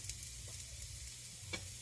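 Garlic frying in a pan with onions and ginger for chicken xacuti curry, a quiet continuous sizzle with a couple of soft stirring clicks.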